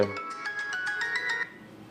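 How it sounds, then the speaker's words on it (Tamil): A mobile phone rings with a short, repeating electronic tone, a steady pulsing melody heard close and clear for about a second and a half before cutting off. "ஏய் ரிங் போகுது."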